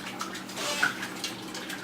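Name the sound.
cooked pasta and asparagus poured through a colander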